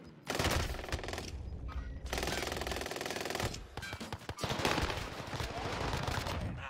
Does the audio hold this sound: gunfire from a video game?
yes